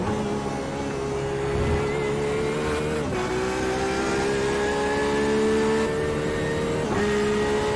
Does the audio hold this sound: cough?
no